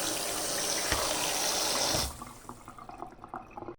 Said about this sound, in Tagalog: Ayan na yung beef natin guys. So, hugasan na natin.